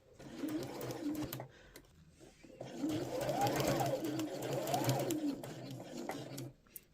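A sewing machine stitches down the lining of a beach bag, whirring steadily in two runs separated by a short pause, close and moderately quiet.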